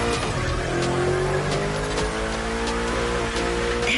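A car drifts through a video game turn with a sustained, loud tire squeal over a revving engine, the screech wavering in pitch for the whole stretch.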